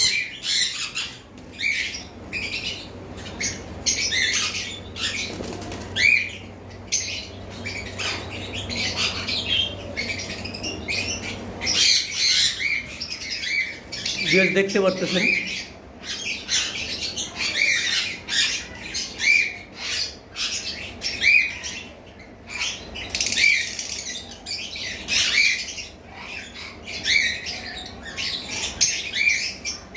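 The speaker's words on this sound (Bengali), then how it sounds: "উপরের পাখিগুলো যে পাখিগুলো আমার একবার উপরের খাঁচায় রয়েছে এখানেও ভালো ভালো মিউটিশনের পোকাটেল রয়েছে" Caged cockatiels of various mutations on a bird farm squawk and chirp loudly and repeatedly, close up, with bursts of wing flapping and a brief spoken remark partway through.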